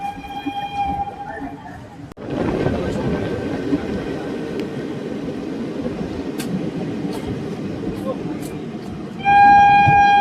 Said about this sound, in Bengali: ট্রেন হলদিওয়ানি ছেড়ে এগিয়ে চলেছে কাঠগুদামের দিকে